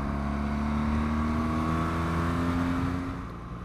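A car accelerates to overtake, its engine droning steadily with a rising tone under a broad rush of wind noise from inside the cabin, easing off near the end.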